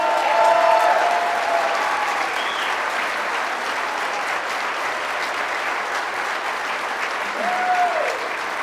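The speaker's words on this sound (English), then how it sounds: "Let's give him a round of applause." Audience applause at a political gathering in a gubernatorial campaign setting, sustained broadband clapping from a large crowd lasting throughout, steady and fairly loud, with brief faint voices near the start and end.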